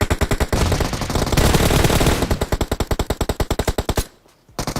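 Rapid automatic gunfire rattles loudly in the mobile shooter PUBG Mobile, with fast, evenly spaced shots in sustained bursts that end in a short pause and then a few more rounds.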